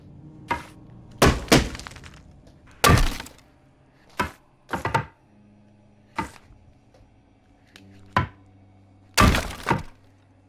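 Glass smashing repeatedly in The Walking Dead: Saints & Sinners, about eight sharp, loud breaking impacts at irregular intervals over quiet background hum, some shattering crashes with brief tinkly tails.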